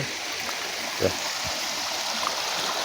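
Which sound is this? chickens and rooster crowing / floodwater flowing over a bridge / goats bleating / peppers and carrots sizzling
floodwater flowing over a bridge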